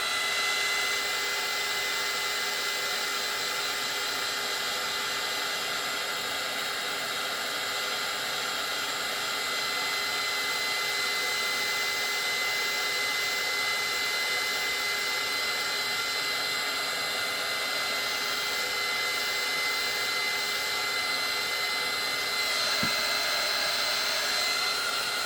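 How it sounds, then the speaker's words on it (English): A heat gun blows steadily on a painted paper craft piece, a continuous loud broadband whoosh lasting throughout with no talking and only a small click near the end. "I'm going to hit it with the heat gun again"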